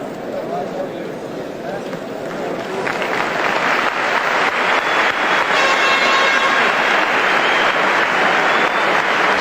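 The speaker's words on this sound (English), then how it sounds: "Sportsmanlike crowd here at the Gardens, and they applaud as Mike Bossy is taken off on a stretcher." Arena crowd at Maple Leaf Gardens applauding during a 1978 Stanley Cup quarterfinal hockey game as Islanders player Mike Bossy is stretchered off; steady, broad applause that swells and holds loud through the clip.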